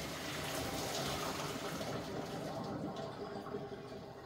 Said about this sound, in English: I'm just going to pour this all out.